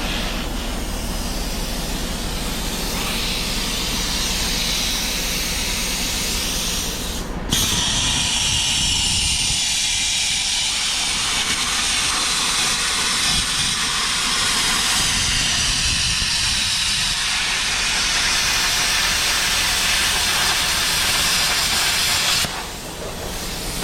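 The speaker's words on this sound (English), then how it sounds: "it cuts right through this tin stuff like it's nothing" A power cutting tool slices through thin tin sheet metal on a 1965 Mustang Fastback's subframe, a loud continuous harsh hissing whine that shifts tone midway and cuts off abruptly near the end.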